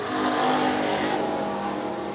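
IMCA stock cars race around a dirt track at USA Raceway, engines droning and revving loudly in a sustained roar as the cars run close together.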